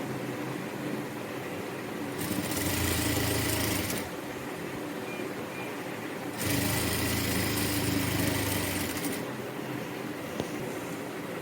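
A sewing machine stitches the sleeve of a cotton nighty in two fairly loud bursts of rapid whirring, each about two seconds long, separated by quieter pauses with faint room noise.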